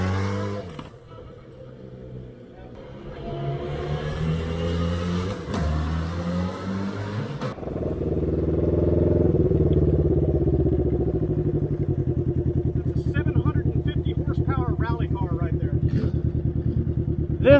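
A sport bike's engine revs and accelerates up close, a steady loud mechanical drone with rising pitch, while people talk nearby over it.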